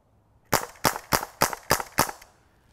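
A .357 Magnum revolver adapted to shoot darts is fired six times in quick double-action succession, each sharp, loud crack evenly spaced about a third of a second apart, with no talking.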